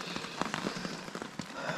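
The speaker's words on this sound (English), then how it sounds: "the rain has started to settle, but it might be starting up again" Rain falls steadily on a soaked campsite in Algonquin Park's northern woods on a morning canoe trip, a soft continuous patter with scattered sharper drops, fairly quiet and with no voices.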